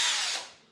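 Power drill boring a 7/8-inch hole into a staff, a single short burst of high whining that spins down and fades within a second.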